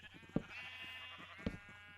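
A sheep in the Minecraft video game gives a sustained, fairly quiet bleat, with a couple of soft thumps over a low background and no talk.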